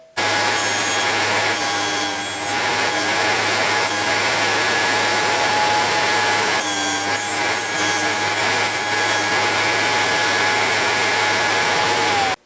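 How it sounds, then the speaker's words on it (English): A Vevor bench grinder sharpening a metal drill bit gives a loud, constant motor whine under harsh grinding contact that swells and eases in passes, close and continuous for the whole stretch, with no speech. "Now I'll turn the machine on, put the safety glasses on, and I'm ready to grind."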